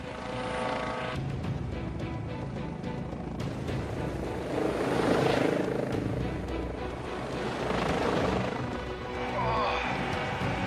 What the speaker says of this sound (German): Der Helikopter kann hier drüben nicht landen.